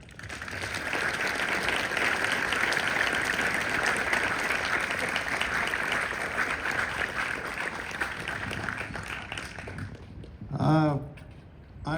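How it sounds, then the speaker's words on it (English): Sustained audience applause at a speech at the Normandy American Cemetery, a steady dense wash of clapping for about ten seconds that fades out near the end. "And I would like to please introduce you and give a big round of applause to Mr. Charles Shay."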